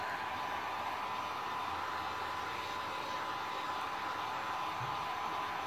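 A heat tool blows hot air into a shell mold to warm it from inside, giving a constant, loud, even whooshing hiss that runs unbroken throughout, with no talking.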